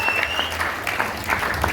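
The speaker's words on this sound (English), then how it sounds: "A huge round of applause to Anish Dasrat" Audience applause at an evening tent campaign gathering, a steady wash of clapping from a crowd that sits under a faint tone and some low background hum, holding an even level throughout.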